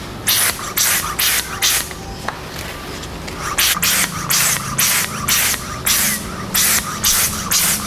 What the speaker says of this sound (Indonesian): Nah, kita semprotkan dulu.